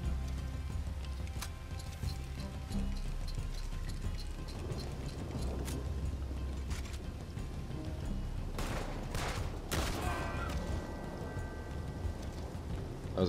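A few gunshots crack in Red Dead Online during a bounty hunt, set against a steady bed of rain and hoofbeats, with a brief cluster of sharper shots near the end.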